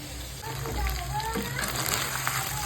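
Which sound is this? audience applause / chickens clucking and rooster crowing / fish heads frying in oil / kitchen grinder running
fish heads frying in oil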